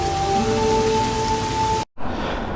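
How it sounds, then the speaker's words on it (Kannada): Steady rain falls at the entrance to Nagarhole Tiger Reserve during a bike ride, a dense even hiss that cuts out briefly just before the end and then resumes. "ಮಳೆ ಶುರುವಾಯ್ತು"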